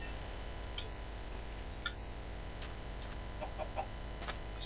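Chickens cluck in a Minecraft-style video game, a few short soft clucks scattered over a steady low background hum with no talking.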